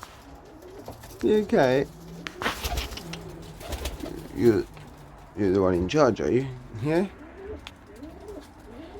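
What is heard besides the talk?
pigeons cooing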